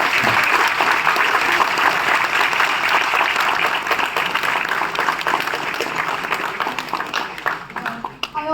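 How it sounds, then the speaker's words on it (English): Sustained applause from an audience at a technology festival session at IIT Bombay, dense and steady clapping throughout that thins slightly toward the end. "And with this, I please welcome Mr. Suresh Prabhu sir with a round of applause."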